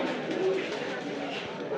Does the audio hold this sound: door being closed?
no